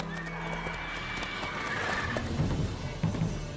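Roach, the horse in The Witcher 3, lets out a long close neigh and whinny while her hooves clip-clop beneath it, the stepping growing louder toward the end.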